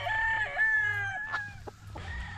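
A gamecock at a game farm crows once, a sustained clear call near the microphone over a low background hum, with faint clucks and short noises after.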